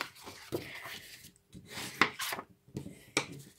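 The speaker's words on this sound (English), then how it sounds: "So fold and burnish your card" A folded paper card is burnished with a folder tool during card-making, giving short dry rubbing and scraping strokes in several separate bursts, fairly close and alone.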